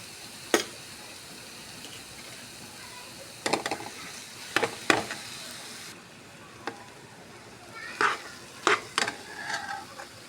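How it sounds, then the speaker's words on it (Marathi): Mashed potato is stirred into a fried spice mix in a pan for batata vada filling, with intermittent scraping clicks of a spoon against the pan over a soft sizzle. "मसाला मस्त घमंग परतला गेला आपण आता बटाटा बारीक केला बटाटा त्याच्यात टाकू"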